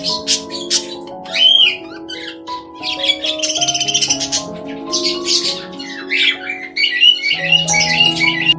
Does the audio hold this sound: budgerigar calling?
yes